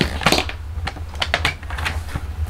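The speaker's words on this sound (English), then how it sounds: "So why don't we cut this piece to be 4 inches." A piece of card being cut for handmade greeting cards, producing a quick series of sharp clicking and snipping sounds close by, no voices.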